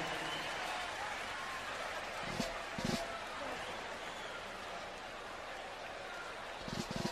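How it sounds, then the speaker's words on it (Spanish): Audience applause at a nighttime live corridos show: a dense, steady wash of clapping fills the whole stretch, with a few brief louder flurries. "Fuerte el aplauso, qué bonito detalle"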